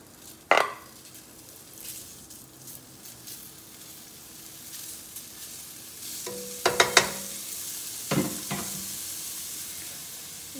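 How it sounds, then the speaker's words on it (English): Sausage going into a pot on medium heat for spicy sausage pasta, giving a soft steady sizzle with a few sharp clanks of a utensil against the pot, close and fairly quiet, no talk. "So first we're gonna throw in the sausage."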